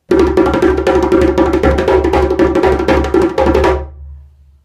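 Loud, frantic drumming with rapid, nonstop hits and no pauses, ending abruptly and ringing out briefly.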